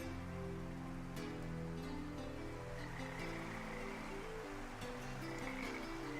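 Steady rushing water from a waterfall in the Farming Simulator 25 game's wildlife water area, a constant broadband wash lasting throughout, with croaking frogs layered in beneath it.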